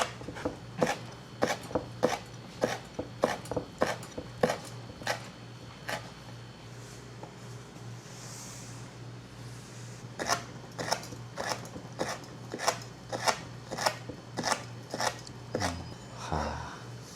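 Rapid, steady knife chops slicing raw gizzard shad-like fish against a cutting board, crisp repeated taps with a short pause midway, while quiet voices murmur in the background.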